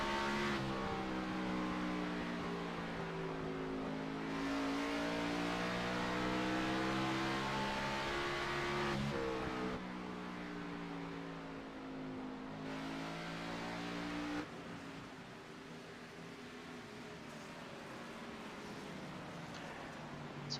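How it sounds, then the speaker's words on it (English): Race car engines drone steadily at Bristol Motor Speedway during an ANZCAR Thunder race, a continuous loud roar with pitch that rises and falls as the cars lap the track, with no talk over it. "We can see the blue car of Josh Mickelmore"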